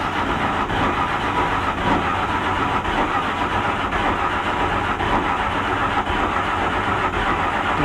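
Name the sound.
rat rod engine cranking but not starting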